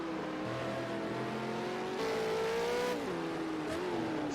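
V8 Supercar engine in Project Cars 2 at Sportsland SUGO, a steady loud drone that rises in pitch, drops at a gear change and climbs again, continuous and close with no talk.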